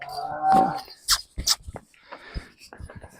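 A heifer offered for sale in a Punjab village near Tarn Taran lets out a single close, drawn-out moo at the start, followed by handling noises and brief talk.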